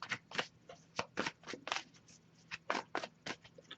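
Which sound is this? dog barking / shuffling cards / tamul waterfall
shuffling cards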